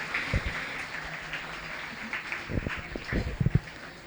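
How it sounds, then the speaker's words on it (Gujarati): An audience applauding at a book launch event, scattered claps under a crowd murmur that build into a denser patter toward the end, moderately distant. "જોરદાર તાળીઓથી"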